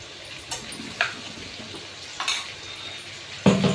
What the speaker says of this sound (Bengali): এবার দিয়ে দেবো মশলা, আদা, জিরে, কাঁচা লঙ্কা আর এলাচ